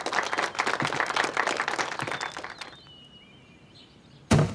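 Scattered clapping from a small group praising Elder Ge's spear skill, brisk and fairly close for a few seconds, then fading to quiet before a sharp loud thump near the end.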